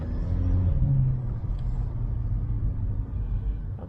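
Volkswagen Polo GTI engine heard from inside while driving off slowly, a low steady rumble with a slight rise early on, then settling into a smooth drone, close and fairly loud.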